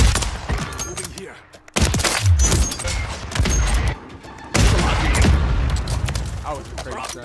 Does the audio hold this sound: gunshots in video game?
yes